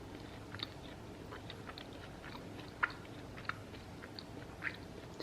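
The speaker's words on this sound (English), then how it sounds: "Let's give it a bite." Someone bites into and chews a sesame bagel spread with almond butter and honey, close and quiet, with a few soft crunches and wet mouth sounds scattered over several seconds.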